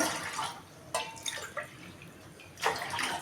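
Water poured from a tumbler into a pot in a home kitchen comes in a few short, soft splashing pours with brief gaps, faint and close.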